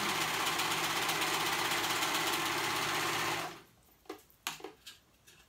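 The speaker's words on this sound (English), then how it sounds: "And I'm gonna sew those shoulders on." A sewing machine stitches the shoulder seams of children's pajamas, running loud and steady for about three and a half seconds before stopping, then a few quieter handling knocks follow.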